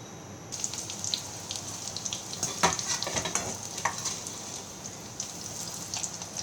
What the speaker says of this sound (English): Let me fry some more and then we can go to the assembling of the chaat.